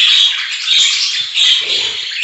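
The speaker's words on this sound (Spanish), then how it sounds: "Miren la cantidad de pericos que están esperando para ya reproducirlos en colonia" A large group of nearly forty caged parakeets squawks loudly and continuously, harsh overlapping calls filling the space up close with no talk.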